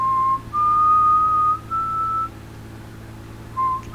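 Someone whistles a short melody of clear, sustained notes with pauses between phrases, over a steady low hum in the background.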